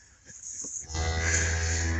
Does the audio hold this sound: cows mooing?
yes